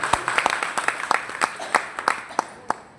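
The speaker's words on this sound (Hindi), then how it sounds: "जोरदार तालियां चौहान साहब के लिए।" A group at a training session claps with distinct, unevenly spaced hand claps in a loose, sparse patter, fairly close, with voices faintly underneath.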